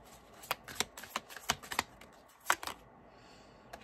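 Tarot cards riffled and shuffled in quick, crisp bursts of flicking card edges, close and fairly loud, with brief pauses between clusters and no talking.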